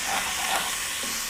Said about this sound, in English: let's get this bacon and Mosby sausage into this Dutch oven and we're gonna render it off